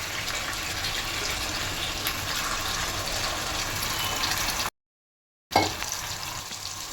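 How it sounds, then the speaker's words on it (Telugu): Marinated chicken with browned onions fries on high flame in a pan, a steady close hiss of sizzling that briefly cuts out, then resumes with a stir. "ఇప్పుడు ఈ చికెన్ని హై ఫ్లేమ్లో 5 నిమిషాలు మనం వేయించుకుందాం"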